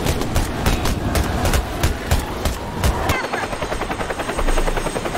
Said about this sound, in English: now everyone, get to the chopper!